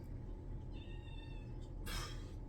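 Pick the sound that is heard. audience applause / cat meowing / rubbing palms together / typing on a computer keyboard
cat meowing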